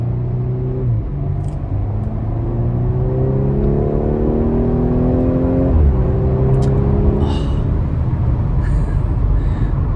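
A 2018 Audi A5 Sportback accelerates hard in dynamic mode, its engine rising in pitch and stepping through gear changes, loud and close from inside the cabin, with a few faint clicks.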